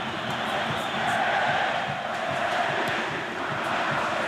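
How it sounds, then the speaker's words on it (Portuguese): Atlético-MG supporters roar in a football stadium during a 1999 Brasileirão clash with Cruzeiro, a steady, dense crowd din with chanting swells that holds at one level throughout, broad and distant. "Que festa faz a torcida do Atlético."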